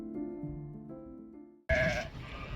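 An Alpine breed goat at the Kyzylorda livestock market gives a drawn-out, wavering bleat up close, cut off by a sudden loud burst of harsh noisy market sound.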